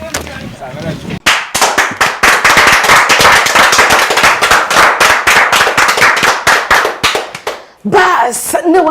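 A studio audience on a Kikuyu-language talk show bursts into loud, dense clapping that swells and runs steadily for several seconds before cutting off, with a voice speaking briefly at the start and again at the end.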